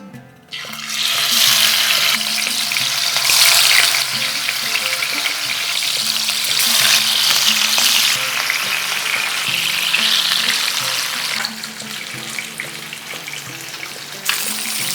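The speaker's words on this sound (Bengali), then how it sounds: "এরপর মাছগুলো ভেজে নেব।" Rohu fish pieces frying in hot olive oil give a loud, continuous crackling sizzle that holds steady for over ten seconds, with brief spatters and a slight easing near the end, and no voices.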